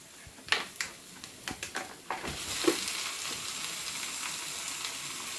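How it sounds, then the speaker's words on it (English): Minced meat goes into a hot pan for chilli. A burst of sharp crackles and pops settles into a steady, hissing sizzle that continues close by. "Adding the mince."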